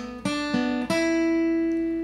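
An electric guitar plays a short lead phrase from a song, three picked notes in quick succession with the last one ringing out and sustaining clearly, alone.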